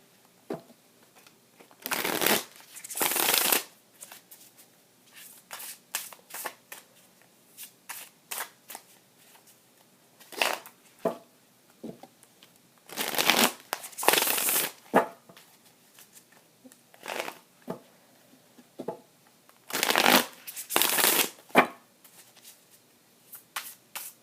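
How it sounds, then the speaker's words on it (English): Tarot cards shuffled by hand in repeated bursts, riffling and sliding in clusters separated by short pauses, close and crisp with small taps and rustles between. "Okay, one more shuffle."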